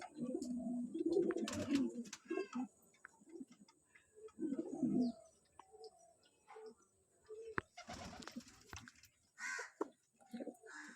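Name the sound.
pigeons cooing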